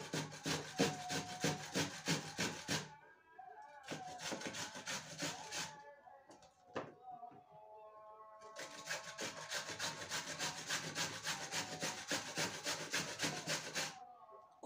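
Squash being grated by hand for börek, a close, steady rasping scrape in long rhythmic bursts of rapid strokes, pausing briefly between runs.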